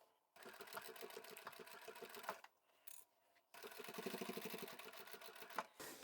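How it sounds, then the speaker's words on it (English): A sewing machine stitches through several layers of fabric for a napkin holder, two bursts of fast, rattling needle clatter separated by a short pause, close and clear with no talk. "I'll start sewing at the bottom of the triangle here."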